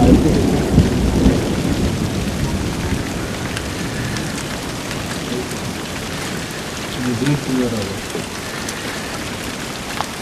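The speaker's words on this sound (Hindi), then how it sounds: "ये बारिश है जो कि ओले की सूरत में है, छोटे छोटे बर्फ के ओले हैं।" Heavy rain with small ice hailstones falls steadily in the Fairy Meadows area near Nanga Parbat, Pakistan, with a deep low thunder rumble building early and a second swell near the end, loud and close.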